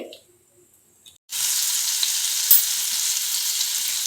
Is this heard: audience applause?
no